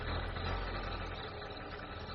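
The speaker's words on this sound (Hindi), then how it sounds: "एकदम से बाइक के घिसकने की आवाज आने लगी और बाइक बंद पड़ गई।" A motorbike engine runs roughly in a storytelling sound effect, giving a steady low, uneven idling rumble with slight knocking vibration that fades a little toward the end, heard alone without voices.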